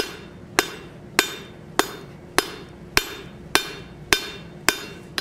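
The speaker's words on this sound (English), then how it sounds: "hammer half on, half off blows, straight down" Steel being forged into a Gothic-style bottle opener under a hammer, with about nine loud, sharp metallic blows struck at an even, steady pace with ringing decay between strikes.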